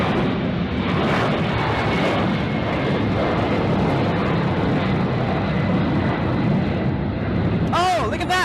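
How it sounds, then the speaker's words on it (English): A jet airliner on the tarmac roars loudly and steadily with a rough, rumbling engine under faint voices, then a sharp burst of popping bangs near the end typical of a compressor stall. "Was that a compressor stall?"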